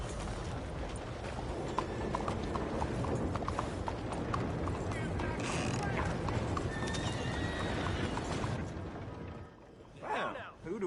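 Hooves clop and a horse neighs in Red Dead Redemption 2, with dense, busy hoofbeats throughout and whinnies rising near the end.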